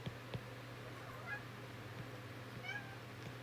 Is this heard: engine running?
no